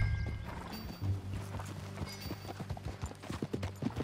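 Horse hooves clip-clopping at a steady riding pace in the video game Red Dead Redemption 2, a busy rhythmic patter of hoof falls layered over a dense game soundscape with an occasional whinny.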